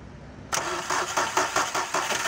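Car engine with a weak, ageing battery cranking and catching after a half-second of quiet, its starter turning in a steady, loud pulsing rhythm of about six beats.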